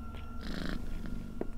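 A cat purrs in the Creepy Tale video game, a steady close rumble lasting under two seconds with a soft brighter rustle partway through and no talking.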